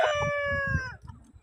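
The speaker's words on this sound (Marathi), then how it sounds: "या कोंबड्या आम्ही बघा या टोटल 500 कोंबड्या बघा कशा दिसतात" A rooster crows once among a flock of about 500 free-range village chickens, a loud close drawn-out call that fades within a second, with faint clucking and farmyard noise below.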